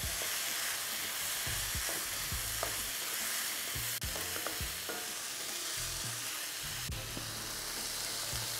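Food being stirred in a frying pan with crushed pepper flakes, vegetable bouillon, salt and black pepper: steady background sizzle broken by repeated scraping and knocking strokes of the spoon, close and alone, with no talking.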